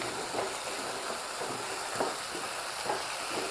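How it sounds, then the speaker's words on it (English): Potato curry sizzling in oil in a kadai while being stirred, a steady soft frying hiss with a few faint scraping strokes of the spoon at irregular intervals. "Have to mix it well now."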